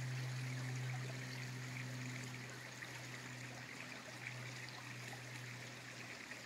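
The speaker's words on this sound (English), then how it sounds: "you can hear and see the water flowing" Water flows through a creek bed in a nature preserve after recent rains, a faint continuous gurgling rush with a low steady hum beneath, and no voices.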